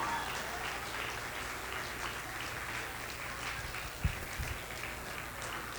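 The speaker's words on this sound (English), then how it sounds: "Let's give them a big round of applause." A school assembly audience applauds core value award winners, a soft, distant, steady patter of many hands heard from afar, with a couple of brief thumps near the end.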